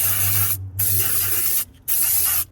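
Aerosol spray hisses inside a Mustang's interior in three loud, close bursts separated by short pauses, the coating mist being blasted around while hunting for a carpet-soaking water leak.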